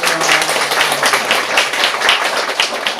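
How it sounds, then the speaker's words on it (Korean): A church congregation at a Sunday worship service claps together, a close, lively patter of many hands with some audible individual claps, steady over a few seconds. "우리 이분들 위해서 박수 한번 하겠습니다."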